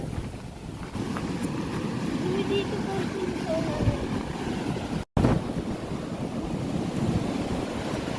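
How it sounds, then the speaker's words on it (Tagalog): Strong sea waves rolling onto a beach in Bicol as bad weather approaches, a continuous rushing surf mixed with gusty wind buffeting the microphone, with a brief dropout partway through. "Ang lakas ng alon, nakakatakot mag-swimming."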